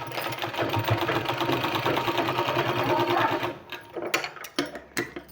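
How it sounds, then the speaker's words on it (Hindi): A sewing machine stitches a strip onto a sleeve with a fast, steady whirring rattle for about three seconds, then stops and gives way to scattered handling clicks and rustles. "और यहाँ सिलाई कर देना है।"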